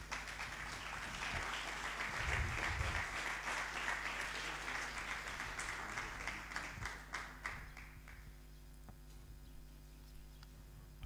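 A church congregation at a Sunday service applauds loudly and densely, the clapping tapering into scattered claps and fading near the end.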